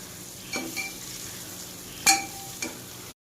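A spoon scrapes and clinks three times against a pan while tempered gunda vegetable is stirred, with a faint sizzle between the strokes.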